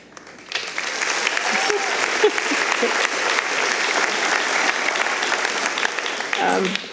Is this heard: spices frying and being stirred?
no